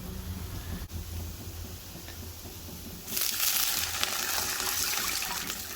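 Water poured from a cup into rice flour in a kitchen: a muffled, low mixing rustle at first, then a loud, steady gushing wash of water for the last few seconds, alone with no voice.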